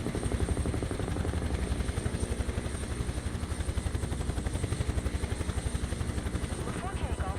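Aircraft engine drone from a plane landing in Microsoft Flight Simulator 2024 near the Grand Canyon, a steady loud rhythmic propeller-like pulsing throughout with a constant high whine, no talk.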